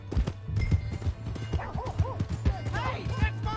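A horse clip-clops along at a quick, rhythmic pace in a PS4 video game, with hoofbeats thudding over a low steady hum, mixed with voice-like or whinnying sounds.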